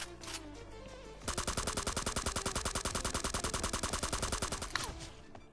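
Sustained automatic gunfire in the mobile shooter Scarfall 2.0, a rapid, loud, evenly spaced burst of shots lasting several seconds over game background sound, starting abruptly after a brief quieter lead-in.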